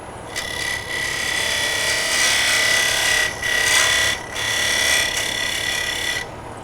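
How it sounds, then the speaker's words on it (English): Craftsman skew chisel cutting a dovetail into a wooden ring bowl spinning on a lathe: a steady, loud scraping hiss in several sustained bursts with brief gaps, close up and with no talking. "back to the Craftsman skew chisel, just to get that dovetail on the inside"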